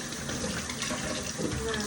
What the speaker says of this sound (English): I'm gonna wash my hand again.